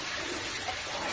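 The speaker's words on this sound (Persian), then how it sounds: "این صدای آبی که میشنوید" Water flows steadily through an ancient underground drainage channel carved beneath the ruins of Persepolis, a continuous broadband rushing and trickling that stays even and fairly loud throughout, with no voices.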